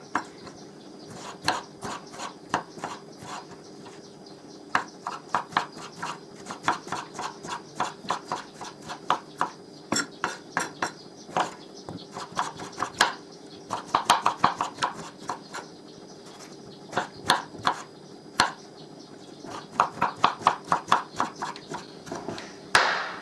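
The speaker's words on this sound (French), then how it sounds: "غادي نقطع لي زوبرجين très très très finement, vraiment en tout petit morceau, tout petit cube" Knife chopping aubergine into tiny cubes on a board: a long run of quick, sharp, near taps in uneven bursts with short pauses, loud and close with no talking.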